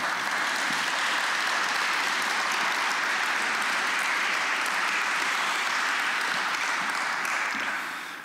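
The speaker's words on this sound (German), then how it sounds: "Das ist ein Beifall wert, denke ich mal." Sustained audience applause at a memorial song concert in Dessau-Roßlau, a dense, even wash of clapping from a large crowd lasting several seconds before starting to fade at the end.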